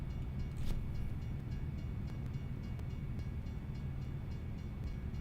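A train rolls past a railroad crossing in American Truck Simulator, heard as a faint, steady low rumble and rail drone with a few soft clicks and no horn.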